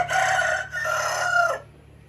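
A rooster crows loudly and close by, one long drawn-out call that rises and then trails off, with no talk over it.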